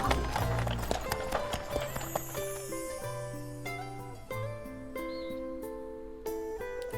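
Horse hooves clip-clopping at a run in the Bravely Default II video game, a quick rhythmic patter mixed under game music with chiming notes and no talking.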